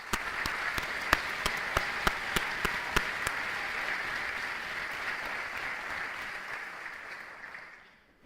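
Audience applause at a high school awards ceremony, a steady wash of clapping with a few sharp, loud claps near the front early on, fading out toward the end.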